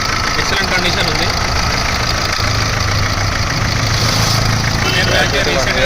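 A 2016 Tata Indica eV2 diesel car engine idling with a steady low rumble and rhythmic diesel knock, close and loud, while someone talks over it.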